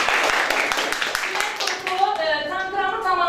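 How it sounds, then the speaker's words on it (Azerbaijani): Classmates in a fourth-grade maths classroom clap, a dense patter of many hands at close range that carries through the clip, with a teacher's voice talking over part of it. "Alqışlayaq yoldaşlarımızı."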